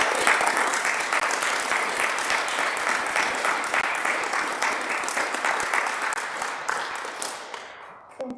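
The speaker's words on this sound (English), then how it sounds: "Can we all give Jim a quick round of applause" Audience applause at a town community event, dense sustained clapping from a crowd for about eight seconds, steady and fairly loud before tapering off at the end.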